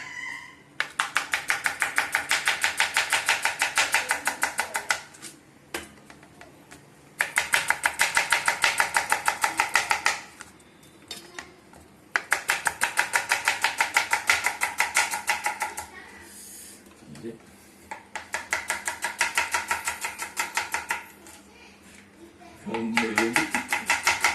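A knife chops onions on a board in a home kitchen, in four long runs of fast, steady strokes separated by short pauses, close and fairly loud.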